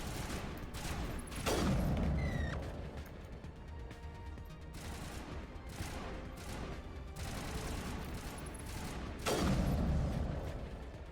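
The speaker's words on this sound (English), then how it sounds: "The sniper in this game is so satisfying." Sniper rifle shots in Mass Effect 1 Legendary Edition, two heavy booming blasts several seconds apart, each with a rolling decay, over quieter background game sounds.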